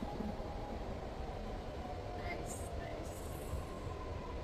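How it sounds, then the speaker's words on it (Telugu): A driverless metro train in Sydney runs along with a steady, close rumble of wheels and carriage noise, a few faint squeals riding above, while a voice speaks briefly over it. "డ్రైవర్ లేకుండా వెళ్ళిపోతుంది ట్రైన్"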